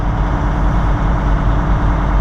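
A freight box truck pulls out and drives off, its engine a loud, steady low rumble up close with no gaps or other sounds.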